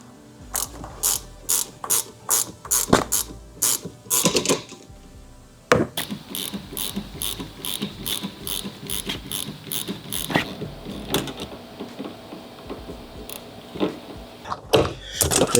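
Ratchet wrench tightening the rear shock absorber bolt on a 2010–2012 Honda CR-Z, rapid bursts of close, sharp clicking with brief pauses, continuing at a steady pace through to the end.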